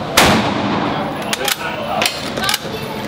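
Sniper rifle shots in a video game ring out as several sharp, loud cracks spaced about a second apart, each with a short ringing tail.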